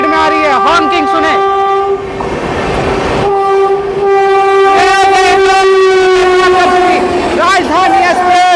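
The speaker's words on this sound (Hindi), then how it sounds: "ट्रेन को कोई ट्रेन क्रॉसिंग करती हुई है गजब की हॉकिंग के साथ" Jharkhand Swatantra Express and a parallel train passing at speed on an Indian railway line, with loud, sustained horn blasts repeated several times over rumbling rail noise, close and dominant.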